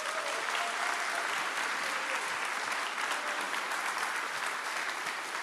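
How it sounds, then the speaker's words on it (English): A church congregation applauds a guest speaker at a sermon, steady dense clapping that holds at an even loud level throughout, with no talk over it. "can you guys also extend that applause to your pastor, Pastor Bo?"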